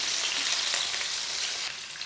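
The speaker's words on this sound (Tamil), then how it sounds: "காஞ்ச மிளகாய் லைட்டாக செவந்து வந்ததும் ஒரு பொடியை நறுக்கின பச்சை மிளகாய் ஓரளவுக்கு வதக்கிடுங்க" Finely chopped green chilies and dried red chilies sauté in hot oil in a pan for an egg recipe, a steady close sizzle and crackle with no voices.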